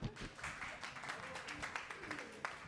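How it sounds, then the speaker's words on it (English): An audience at a blockchain conference event applauds steadily in a moderate, distant-sounding wave of claps, with some voices mixed in. "clap, give it up for them"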